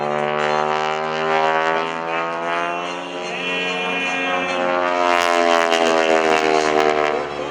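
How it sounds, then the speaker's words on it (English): Stearman biplane with a modified fuel-injected R985 radial engine flying an airshow aerobatic routine, a loud sustained droning roar with a rich, steady harmonic tone, rising and shifting in pitch as the aircraft maneuvers overhead. "This is an R985 modified. Fuel-injected horsepower."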